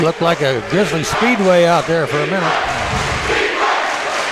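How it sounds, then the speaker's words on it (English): Someone talks loudly over a crowd at a boys high school basketball game, and the crowd's roar swells and carries on as his voice drops away. "Now you hear the crowd."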